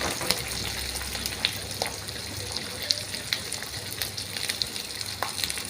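Onions fry in hot oil with green chillies and curry leaves, a constant close sizzle scattered with small sharp pops and crackles.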